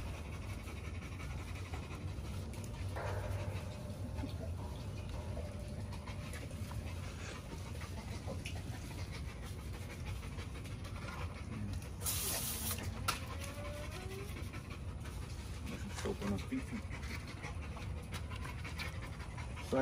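An XL Pitbull pants heavily and continuously while being washed early in the morning, with brief bursts of spraying water and faint talk in the background.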